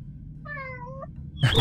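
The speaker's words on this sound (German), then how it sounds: "Miau." A single short cat meow from the video game Little Kitty, Big City, clear and close, rising then falling over about half a second against quiet background, followed by a brief burst of other game sound.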